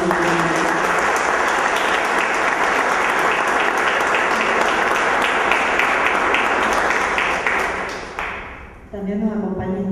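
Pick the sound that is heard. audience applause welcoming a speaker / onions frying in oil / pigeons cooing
audience applause welcoming a speaker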